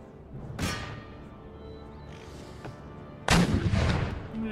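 Artillery fire in the video game Empire: Total War, two booming cannon shots a few seconds apart, each a heavy blast with a rumbling tail over a low battlefield ambience.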